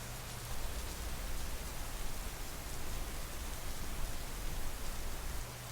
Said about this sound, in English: It's quite cold out, and it's raining.